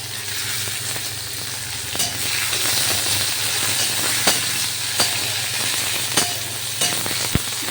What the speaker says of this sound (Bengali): রসুন ভাজা ভাজা হচ্ছে।